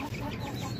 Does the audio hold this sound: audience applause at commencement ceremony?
no